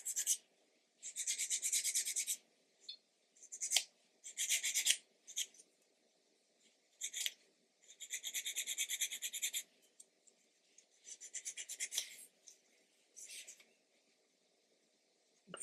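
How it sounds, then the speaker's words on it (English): A sanding stick rubs paint off the mating edge of a plastic Airfix 1/72 B-17G model kit part in close, quiet bursts of raspy scraping, each stroke group lasting one to two seconds with short pauses between. "So let's get a sanding stick out. So I'm just going to take the paint off the mating edge."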